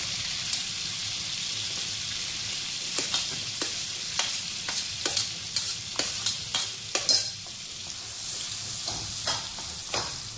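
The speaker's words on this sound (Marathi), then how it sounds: "आपले बटर गरम झालेले, कांदा आणि कापलेली मिरची टाकून घेते" Onion and chopped chili fry in hot butter with a continuous crackling sizzle. A spoon makes repeated sharp stirring clicks and taps against the pan, close and fairly loud, with no talking.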